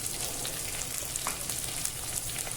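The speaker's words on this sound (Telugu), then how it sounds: "నూనెలో మగ్గనివ్వండి" Chopped vegetable pieces cooking in oil for a black-eyed pea curry, giving an even, close crackling sizzle that holds steady without pause.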